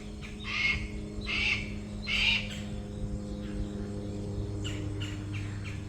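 Several wild birds calling near a tree, harsh squawking bursts in three loud pulses early on, then fainter scattered calls over a steady low background hum, with no talking.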